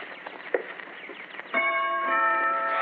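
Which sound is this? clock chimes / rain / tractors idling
clock chimes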